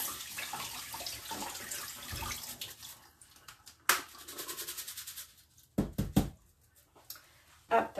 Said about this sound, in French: Hop, donc je rince.